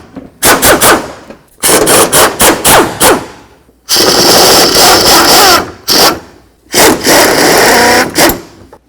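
A power tool, likely an impact gun, rattles out the fan shroud mounting bolts on a 1988-2000 Chevy C/K1500, loud and close, in several harsh bursts separated by brief pauses, with no talking.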